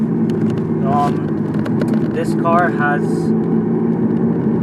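A Peugeot 308 GTi engine droning steadily from inside the cabin while driving, a constant low hum under someone talking throughout.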